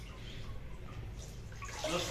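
Water splashing and draining as a spin mop is wrung out in its bucket, a short wet swishing that grows louder and brighter toward the end, with a voice faintly in the background.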